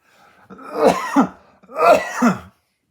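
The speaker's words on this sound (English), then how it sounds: "Sorry, I've got a cough here." Two harsh, close coughs from a person, each a double-pulsed throaty burst about a second apart, followed by silence.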